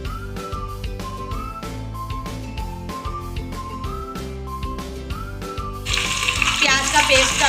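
Fish pieces frying in a pan for a fish curry. A steady backing tune plays at first, then a loud, dense, close sizzle bursts in and fills the last second and a half.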